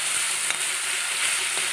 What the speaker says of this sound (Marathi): छान फ्राय होत आहे.